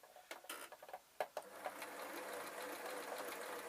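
A sewing machine stitches with blue thread onto white material, set to a buttonhole stitch. A few separate clicks and short bursts come first, then a steady, close, continuous mechanical whirr that runs to the end.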